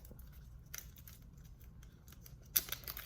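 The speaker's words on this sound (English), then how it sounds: "you're gonna take your scissors and you're just going to cut off the little round piece so you can just have a flat surface" Scissors snip the rounded ends off wooden craft popsicle sticks for a Dollar Tree farmhouse sign, with two sharp, close cuts about two seconds apart over a quiet room.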